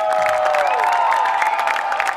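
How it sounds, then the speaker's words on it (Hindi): Audience applause and cheering for the winners at the grand finale of a televised competition, a continuous crowd roar layered over a sustained musical tone, loud and unbroken throughout. "दोनों के लिए तालियां होनी चाहिए।"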